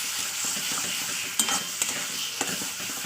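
A spatula stirs a spice paste through hot oil in a pan, giving a steady close sizzle broken by a few sharp scrapes and taps of the spatula against the pan.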